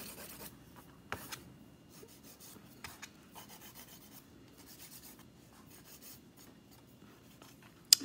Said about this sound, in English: I'm using the 180 side of my file and just very lightly